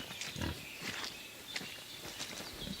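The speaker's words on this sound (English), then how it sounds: "I feel like I heard a pig, huh?" Pig grunting in Kingdom Come Deliverance 2, a few short rough grunts and snorts spaced apart at low volume, alone without speech.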